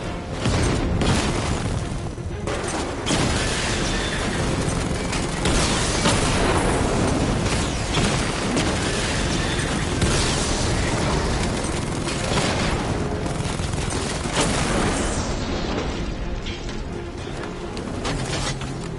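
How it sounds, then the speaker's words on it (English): Heavy 60mm cannon fire and explosions from the Batman: Arkham Knight video game, a dense, loud, continuous barrage of booms and blasts filling the whole stretch without a break. "Your 60mm cannon will penetrate these heavily armored units, but it'll take a few direct hits to destroy them."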